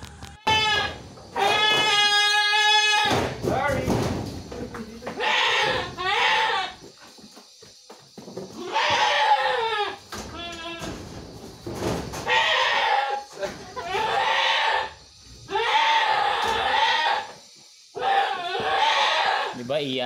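A restrained goat with a broken, bleeding horn struggles and bleats loudly in repeated cries, with a person talking in between and around the calls.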